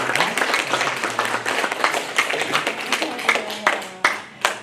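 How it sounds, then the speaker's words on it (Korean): Korean church congregation clapping together in celebration of a child's first birthday, a brisk, fairly loud burst of many hands at close range with a few voices mixed in. "우리 축하의 박수 좀 드리고요"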